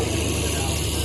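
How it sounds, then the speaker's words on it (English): A John Deere 4430 tractor rumbles with a steady low engine drone at an evening tractor pull, continuous and unchanging over the short moment, heard amid arena noise with no clear words. "What do we got? What is that? John Deere 4430."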